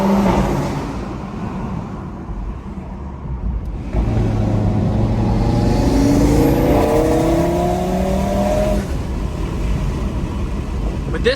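A 2018 Audi RS3 with a five-cylinder turbo engine accelerates hard, its exhaust droning louder after a shift and rising through the gears, with a faint voice underneath.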